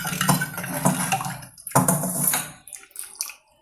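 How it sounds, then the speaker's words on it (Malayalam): Tomato clear soup poured from a pot into a bowl in a home kitchen, with a close liquid splash and clinks of metal cookware, steady for a couple of seconds before fading to quieter clatter. "നമുക്കിനി സൂപ്പ് ഒഴിക്കാം ബൗളിലോട്ട്."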